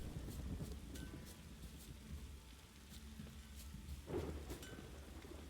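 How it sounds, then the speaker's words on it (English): A thunderstorm in the video game The Witcher 3, steady rain and a low rumbling bed with a distant thunder crack, faint and continuous, no talking. "It's thunderbolt and lightning everywhere."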